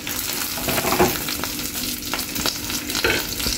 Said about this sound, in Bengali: এখন আমি উঠিয়ে বাকি মাছগুলো সেমভাবে ভেজে নেব।